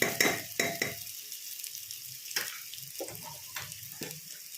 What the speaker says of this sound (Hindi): प्याज को हाई फ्लेम पर गोल्डन ब्राउन होने तक भूनेंगे।